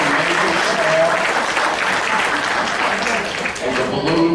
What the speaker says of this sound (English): How about a round of applause for Laura for bringing us